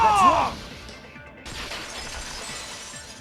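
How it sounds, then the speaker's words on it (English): Glass shattering in the Danganronpa 2 video game, a sharp bright crash with scattering fragments that ring out over about half a second, followed by low ambient rumble. "the girls heard the sound of the window shattering"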